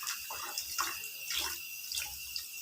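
Tap water runs steadily into a sink while fish meat is washed by hand, soft splashes rising and falling over the constant flow, close and fairly quiet.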